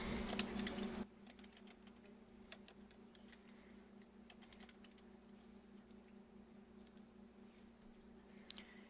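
An article title is typed on a computer keyboard, a quiet run of irregular key clicks spread across several seconds after a brief louder start.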